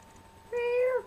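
A cartoon cat meows once in PlayStation All-Stars Battle Royale, a single drawn-out, clear game meow rising out of quiet background noise.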